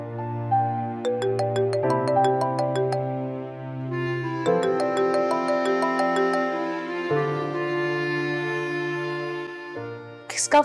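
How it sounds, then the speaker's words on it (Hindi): A phone plays a melodic ringtone for an incoming call, a looping electronic tune of bright, chiming notes that continues for several seconds, clear and close. "किसका फोन है?"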